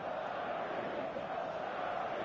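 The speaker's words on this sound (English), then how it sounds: "There's a real expectant buzz in the stadium" Expectant stadium crowd in the eFootball video game on PS5: a steady, dense, distant roar of many voices, with no breaks or distinct shouts, carries evenly through the moment.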